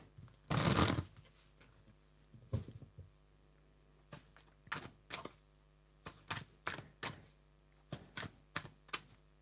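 Cards riffled and shuffled in several quick bursts: one loud flurry at the start, then a run of short, crisp riffles close by, with no talking.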